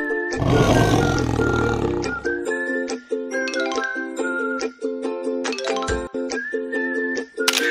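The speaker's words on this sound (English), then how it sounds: "Lion." A lion roars in a children's animal puzzle video game, one loud roar at the start, followed by bright, repeating game music and chime-like effects.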